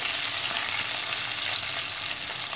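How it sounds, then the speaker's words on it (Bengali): Shrimp seasoned with salt fry in a hot pan, giving a steady, dense sizzle that stays loud and even throughout with no voices. "রান্নার শুরুতেই আমি চিংড়ি মাছগুলো একটু ভেজে নিব"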